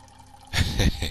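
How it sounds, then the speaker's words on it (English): A toilet flushes in the horror game Layers of Fear 2, a sudden loud rush of water bursting in halfway through and surging on in uneven gushes after a quiet start. "And flush."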